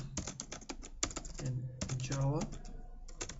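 A computer keyboard clicks in quick bursts of keystrokes while a command is typed at a command prompt, close to the microphone, with someone talking over part of it.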